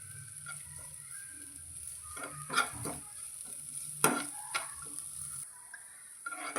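A coarse paste of ginger, garlic and green chili sautéed in a pan, heard as a soft low sizzle with several sharp spoon scrapes and taps from stirring, close by and without talk.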